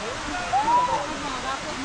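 Katiki waterfall in Araku pours with a steady, broadband rushing roar that fills the whole stretch; a faint voice or whistle-like tone rises briefly in the middle.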